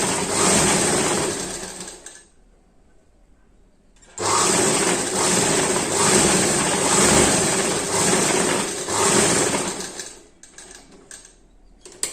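A sewing machine runs in loud continuous bursts while stitching an envelope-style polo cover, with a pause of about two seconds, then a long steady run that breaks into shorter bursts near the end.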